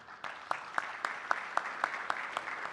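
An audience at a conference panel applauds steadily, a dense wash of clapping with regular sharper claps punctuating it at moderate distance.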